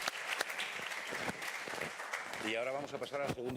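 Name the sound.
audience applause for panel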